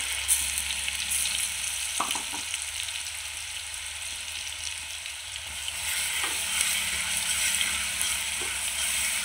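Chopped chili and garlic roasting in a pan on cumin seeds, giving a continuous close sizzle with a few stirring scrapes and a brief swell of frying noise partway through, no voices.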